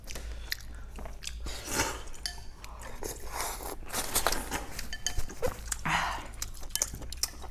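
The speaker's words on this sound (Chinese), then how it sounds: "我尝一口你的面鱼" Chewing and slurping close to the mic during a Chinese mukbang: a meal of noodles, starchy fish-shaped noodles and soft rice noodles dipped in sesame paste, with steady wet bites and smacks throughout and no talk.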